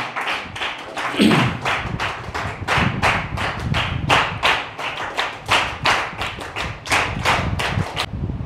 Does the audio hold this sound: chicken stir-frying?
no